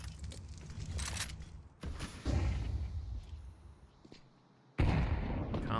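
Grenade blasts and gunfire in a competitive shooter match, ESL Challenger League, with sharp bursts and heavy booming impacts, the loudest arriving near the end, amid scattered in-game noise.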